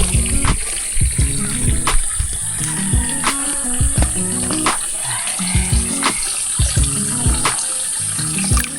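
A hand dips into and moves through cool pool water at a campsite in Tanay, Rizal, making close, repeated splashes and sloshes over a steady watery wash.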